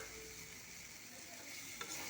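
Fried soybean chunks and potato are stirred into a sizzling paste of cumin, ginger, garlic and green chili, a close hiss of frying with soft scraping of the spoon and a brief clink near the end.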